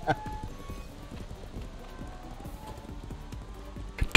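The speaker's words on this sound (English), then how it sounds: "I'm gonna run my gay horse around." A video game horse gallops through Celador, its hooves pounding out a quick, even clip-clop at close range, with a voice speaking briefly over the steady hoofbeats.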